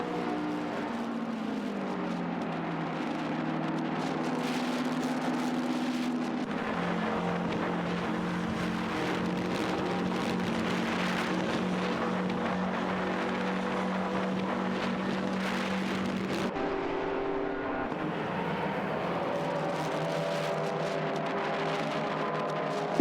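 Racing cars in a video game, a Ferrari 375 Indy and a Maserati 250F 3.5 litre, drone steadily with engine tones rising and shifting as they run close together, a continuous loud whine with no talk.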